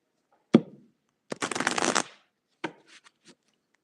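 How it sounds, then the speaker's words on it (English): Tarot cards shuffled in three separate bursts: a sharp riffle, a longer dense flutter of cards, then a few softer taps and flicks, close and clear with no talk. "I am shuffling, shuffling,"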